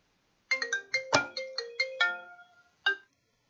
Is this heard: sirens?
no